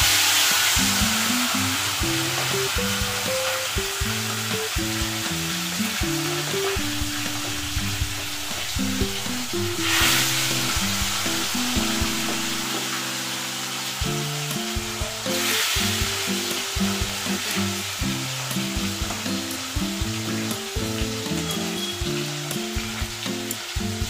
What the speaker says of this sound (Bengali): কড়াই গরম হয়ে গেছে, এবার আমি মাছগুলো একে একে ছেড়ে দেবো।